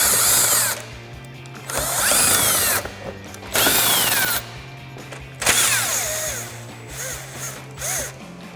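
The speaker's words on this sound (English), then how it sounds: "I'm going to start removing these with my 15 millimeter, my 3/8 gun" A 3/8 impact gun with a 15 mm socket backing out bolts on a 2021-2023 Ford Bronco front bumper, several close bursts of loud whirring and rattling hammering with quieter gaps between.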